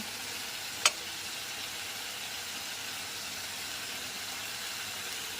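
Chicken masala spices of chili powder, turmeric, salt and cumin frying in a pan over lowered gas, giving a steady, faint hiss with one brief sharp tick near the start and no talking.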